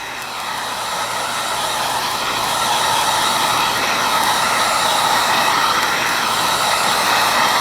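A hair dryer blows steadily on a repaired patch of peeling faux, bonded leather, a continuous close airy roar that builds slightly and holds with no talking.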